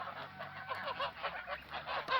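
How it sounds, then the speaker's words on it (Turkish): German fattening geese on a farm honking in a steady, overlapping chorus of loud, close calls with no pauses. "Bunlar Alman mast kazı. 4 Mayıs çıkımlı."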